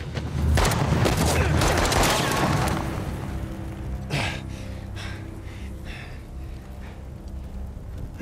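Video game gunfire during the finale of Uncharted: The Lost Legacy, a loud burst of shots and booms in the opening seconds, then fading to quieter rumbling and a few scattered impacts.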